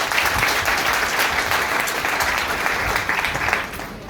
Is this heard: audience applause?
yes